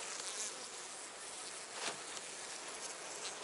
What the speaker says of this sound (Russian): Пчелки обсиживают крайнюю рамку.